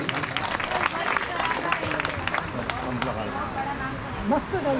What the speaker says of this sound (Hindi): तालियां तो जोरदार होनी चाहिए भाई।